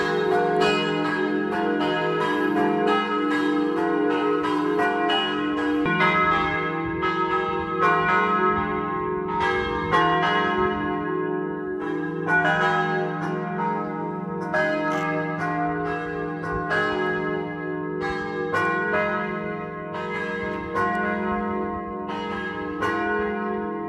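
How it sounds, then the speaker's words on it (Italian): Church bells in Friuli, Italy, ring continuously in overlapping peals, rich and resonant, with no voices, the ringing steady throughout. "mentre sfuma il suono delle campane"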